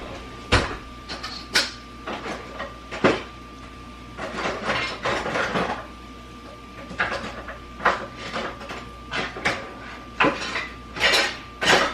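Kitchen utensils clatter as they are gathered for stirring meat, a series of sharp, separate clinks and knocks of metal and dishes spread across the stretch, fairly close, with no talking.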